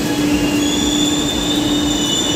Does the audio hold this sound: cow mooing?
no